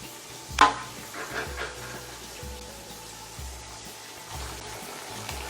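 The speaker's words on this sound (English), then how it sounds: "You see how this is boiling right here?" Gravy for smothered pork chops at a roaring boil in a pan, a close bubbling simmer with a sharp utensil clink near the start and soft stirring noises, no talk.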